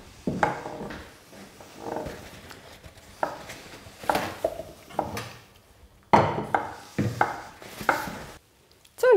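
A knife chops fresh asparagus on a cutting board in a kitchen, striking in quick bursts of sharp, close taps with short pauses between them, no voices.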